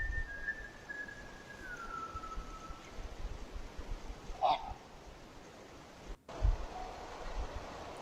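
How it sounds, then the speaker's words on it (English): Faint, distant human whistling drifts from woods through a quiet outdoor night, a thin wavering tone over steady background hiss, with a brief rustle later. "You can hear what sounds like distant whistling in the woods behind her home"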